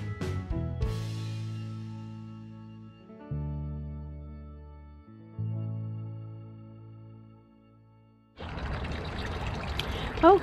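Water pours from a rain barrel in sped-up footage: ringing tonal notes sound first, then a loud rush of splashing water starts near the end.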